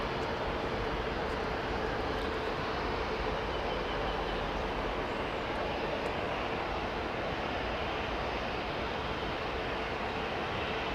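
A DHL Airbus A300 taxis at Heathrow Airport, its engines giving a steady, broad jet roar that holds at an even level throughout with no pauses.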